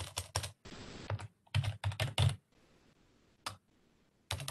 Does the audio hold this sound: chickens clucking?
no